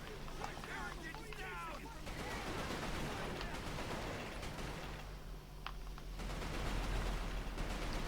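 Video game gunfire in Resistance: Fall of Man, with dense rapid shots and crackling bursts that run continuously under a steady wash of loud in-game noise.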